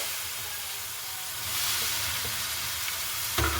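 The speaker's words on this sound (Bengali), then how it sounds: "এখানে দেখুন আমি অনবরত কিন্তু নাতে থাকবো গ্যাসের আঁচটাকে একেবারে কমিয়ে কমিয়ে এইভাবে নাতে থাকবো" Boiled raw papaya is stirred in a pan over a low gas flame for nadu, giving a continuous soft sizzle and hiss that swells slightly midway, with a brief scrape near the end and no talking.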